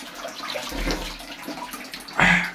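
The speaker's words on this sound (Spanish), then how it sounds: "ahí sale solita el agua de la sierra" Mountain spring water from the sierra near Yehuala in Puebla, Mexico, pours steadily out of a pipe, a close, continuous splashing rush that swells louder near the end.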